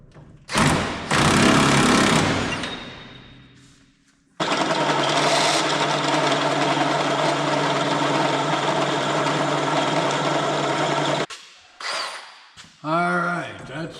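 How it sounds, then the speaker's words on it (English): A power drill bores out a part on a car's steering assembly, running in a steady loud whine for about seven seconds after a shorter earlier burst, then stopping, with a few clunks and brief sounds afterward. "All right, that's drilled out."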